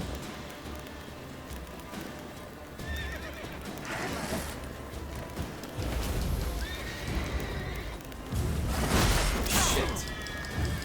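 Repeated horse whinnies from the video game The Witcher 3 ring out over hoofbeats and clattering, growing louder toward the end with crashing, scuffling noise.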